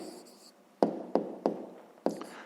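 A pen or marker tapping and scratching out an answer for a 5th-grade maths exercise, four distinct taps spaced roughly evenly, close and fairly quiet, with no talking.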